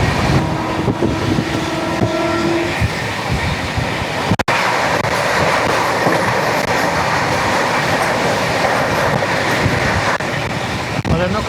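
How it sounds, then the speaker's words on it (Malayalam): The sixteen-coach Khajuraho Vande Bharat express train runs past near Agra with a loud, steady rush of wheels and air, a short horn tone early on and a sharp click midway, a voice briefly audible under the noise. "അതായിരുന്നു ഖജുരാഹോ വന്ദേ ഭാരത്."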